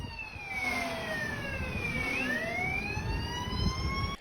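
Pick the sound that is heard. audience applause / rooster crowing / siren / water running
siren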